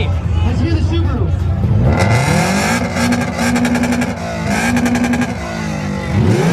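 A Subaru engine revs hard several times at an evening car meet, rising and falling in loud repeated bursts with crackling exhaust pops, while people talk nearby.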